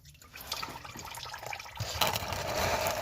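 Engine oil pours and splashes from the drain plug of a seventh-generation Honda Civic during an oil change, a steady liquid gush that grows louder and fuller toward the end.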